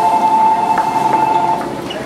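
A Tokyo Hanzomon Line subway train rumbles loudly and steadily as it arrives at a station, with a sustained tonal whine, slowly easing off toward the end.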